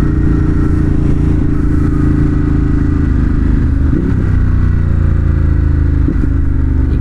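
2018 Ducati Monster 1200 S motorcycle on the road, its engine droning loud and close throughout with a dip as it downshifts, wind and mechanical rumble constant.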